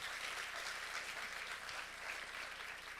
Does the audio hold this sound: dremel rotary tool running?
no